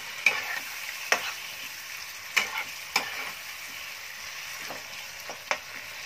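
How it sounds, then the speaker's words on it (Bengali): Spices and turmeric sautéing in a pan, with a steady soft sizzle under scattered sharp scrapes of a spoon against the metal, fairly close with no talking. "আবার একটু হলুদ দিয়ে দিলাম, এটাকে আমি ভালো করে কষিয়ে নেব।"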